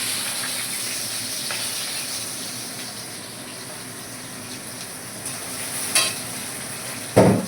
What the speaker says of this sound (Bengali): হালকা ফ্রাই হলে আমি পেঁয়াজ কুচিটা দিয়ে দেবো।